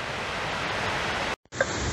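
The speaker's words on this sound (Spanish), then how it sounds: "Pedazo cascada la del Saltón." Steady, dense rush of the Saltón waterfall on the Faro River roars close and unbroken, cut by a brief near-silent gap before the torrent resumes.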